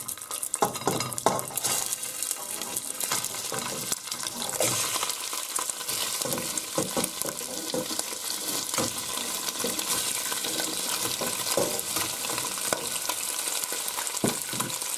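Rabbit pieces crackle and sizzle in hot olive oil for a potato stew, a dense, continuous frying hiss with occasional sharper pops and stirring noises throughout, and no talking.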